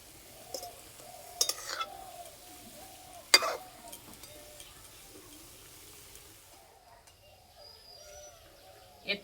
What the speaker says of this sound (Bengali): আর কত সুন্দর মোটা মোটা হয়ে ভাজা হচ্ছে।